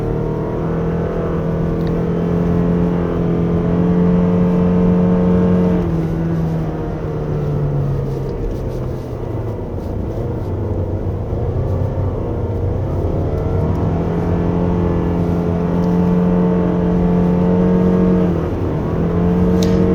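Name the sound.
2024 Toyota Alphard 2.5 hybrid accelerating in sport mode on winding road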